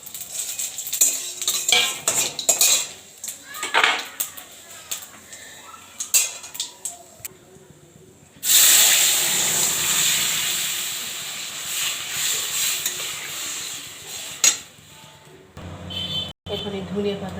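Dried red chillies, cumin, nigella and radhuni spices crackle and sizzle in hot oil for a Bengali dal tempering, a loud steady hiss after utensil clinks and scraping, with a voice talking over parts of it.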